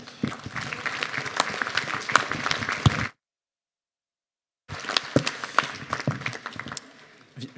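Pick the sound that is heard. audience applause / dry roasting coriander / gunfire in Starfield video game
audience applause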